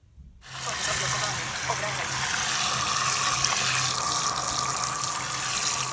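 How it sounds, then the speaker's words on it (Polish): A Beko washing machine detergent drawer is rinsed under a running shower, giving a steady, close, continuous hiss of spraying water throughout. "Jeżeli chcecie ją wyczyścić, musimy ją spłukać z prysznica."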